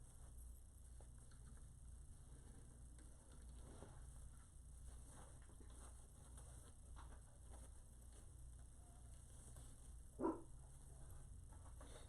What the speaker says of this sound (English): You hear Clancy's bark? He sounds like a toughie